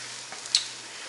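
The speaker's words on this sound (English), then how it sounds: "you'll notice now when the cheese is starting to fry up that it doesn't move around" A cheese sandwich fries in a hot pan with a steady, soft sizzling hiss and one brief, sharper pop partway through; no one speaks.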